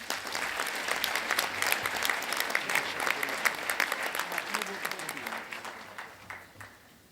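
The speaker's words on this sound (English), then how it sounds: "Please give him a round of applause." Workshop audience applauding a presenter at a disaster preparedness event, steady dense clapping across the whole stretch that thins and fades toward the end.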